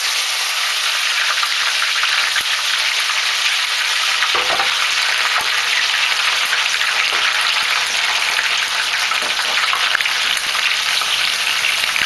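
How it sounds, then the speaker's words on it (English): Diced peppers fry in hot olive oil with a loud, constant crackling sizzle, broken now and then by the scrape of stirring, no voices. "Add your diced peppers."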